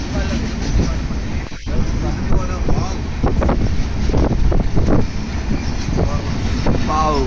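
Train pulling into Thivim station in Goa, with a steady rolling rumble and wind buffeting close to the microphone throughout. Voices talk over the noise.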